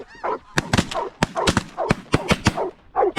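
Shotgun volley at snow geese and ducks during a waterfowl hunt: about a dozen sharp, loud blasts in rapid irregular succession, mixed with loud goose honking throughout.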